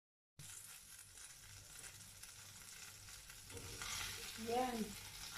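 A burger patty frying in plenty of oil in a pan, with a steady soft sizzle that gets louder and busier toward the end, plus a brief scrape or stir, heard up close with no talk.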